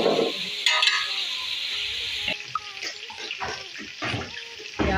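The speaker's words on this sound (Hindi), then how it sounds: "अच्छी तरह फ्राई करना है।" Onions sizzle and crackle steadily in a hot pan while cooking for a wild duck pulao, with scraping stirs and a brief splash of water over the continuous close frying.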